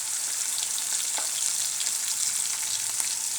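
Onion and garlic fry with turmeric in a pan, giving a steady, close hiss of sizzling oil with faint stirring ticks and no talk.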